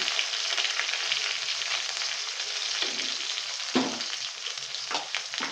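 Cumin seeds, onion and green chillies sizzle steadily in hot oil in a home kitchen, a close and continuous crackle with a few stirring scrapes and no talk.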